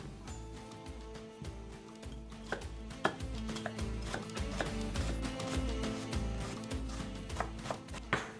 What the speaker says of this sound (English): Onion. This one, on the other hand, I'm going to coarsely mince it.